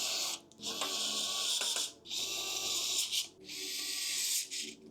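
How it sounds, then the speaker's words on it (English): Screws are driven into a power supply mounted in a twelve-year-old PC case, giving three close, rasping grinding bursts of about a second each, separated by short pauses. "Screw in the power supply."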